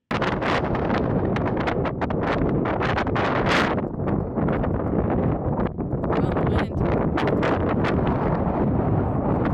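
Strong wind buffets the microphone during a bikepacking trip on the Kokopelli Trail, a loud, constant roar with gusty rises and dips that runs through the whole stretch with no talk.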